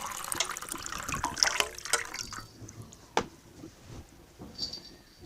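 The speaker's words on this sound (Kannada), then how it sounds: "ಹಾಗೆ ನಿಮ್ಮ ಫೇಸ್ನ ವಾಶ್ ಮಾಡ್ಕೊಳ್ಳಿ." Plain water splashes and sloshes as a face is washed without soap, busy, close splashing for a couple of seconds, then quieter trickles with one sharp drip.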